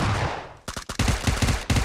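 Gunfire in the mobile battle royale game PUBG Mobile crackles in loud, rapid bursts, with a steady stream before a short gap and a final burst.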